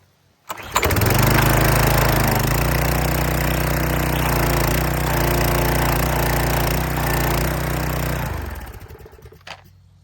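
A pressure washer with a leaking pump starts abruptly and runs under pressure, a loud steady engine drone with a hard mechanical buzz that holds for several seconds before winding down and stopping.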